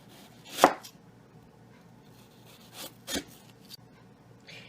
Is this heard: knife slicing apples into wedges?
yes